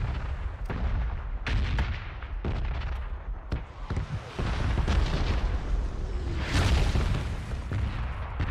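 Bombs exploding during a PUBG video game fight, a continuous barrage of heavy booms and sharp cracks with rumbling blasts layered over each other, loud and dense throughout.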